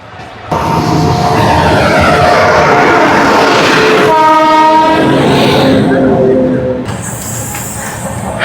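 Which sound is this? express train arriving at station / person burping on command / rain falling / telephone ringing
express train arriving at station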